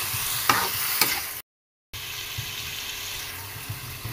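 Squid cooking for sweet adobo sizzles steadily in a hot pan, a close, bright frying hiss with a couple of soft stirring clinks, interrupted by a brief silent gap.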